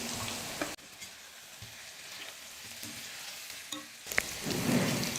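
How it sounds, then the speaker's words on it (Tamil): Brinjal pieces sauté in oil over a medium flame for a kulambu. A soft sizzle is heard with a few faint stirring scrapes, and louder frying opens and closes the stretch. "கத்திரிக்காவை 5 நிமிஷம் பாருங்கள் நல்லா வதக்கிக்கிட்டேன்"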